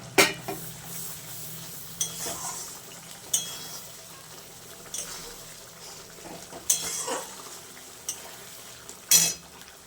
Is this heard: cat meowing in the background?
no